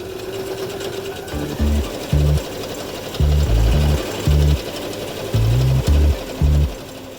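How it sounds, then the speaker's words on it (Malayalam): A sewing machine stitches the sides of a handbag in short stop-and-start bursts, each a rapid mechanical chatter, close and loud over a steady background hum. "മൂല പിടിച്ചിട്ട് ഇതുപോലെ 2 സൈഡും സ്റ്റിച്ച് ചെയ്തെടുക്കുക"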